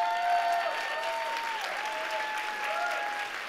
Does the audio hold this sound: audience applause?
yes